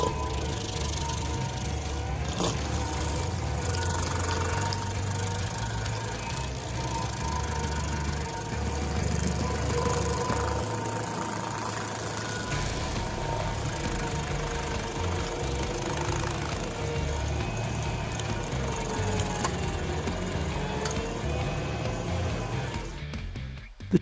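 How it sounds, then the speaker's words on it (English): Rayco RG80 stump grinder chewing through a 36-inch oak stump, a steady loud engine drone with grinding texture running continuously near the source for the whole stretch. "the Rayco RG80 stump grinder destroyed a 36-inch oak stump in just 10 minutes."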